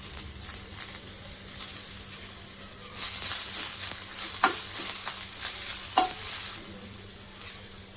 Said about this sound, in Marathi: लसूण पण भाजून घेऊया. तेल टाकून घेऊया. थोडंसं कोथिंबीर टाकूया.